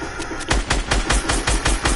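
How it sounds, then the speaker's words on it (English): Rapid bursts of automatic gunfire in a Fortnite squads match, close and loud, firing in a steady rhythm of roughly eight sharp shots over two seconds with no voices. "You shooting at my friend, this is what you get, kid."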